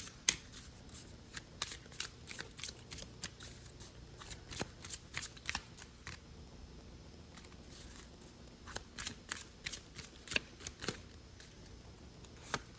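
Tarot cards being shuffled by hand, a quiet run of crisp riffling snaps and flutters in irregular clusters, pausing briefly before starting again, with no talk.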